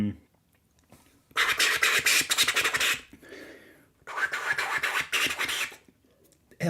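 Two bursts of rapid scratchy crab-scratch record scratching on a turntable, choppy and close, separated by a brief pause.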